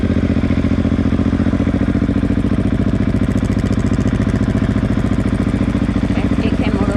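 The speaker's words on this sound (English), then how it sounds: "let's start it with the clutch in anyway" A motorcycle engine idling steadily during a beginner's riding lesson, a rapid even putter with a mechanical clatter, close and loud throughout.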